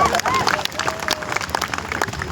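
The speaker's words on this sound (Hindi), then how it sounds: "आप लोग जोरदार तालियां बजाते जाइए।" An audience claps and applauds steadily at an Indian stage event, dense crowd clapping running for a couple of seconds with a voice heard faintly over it.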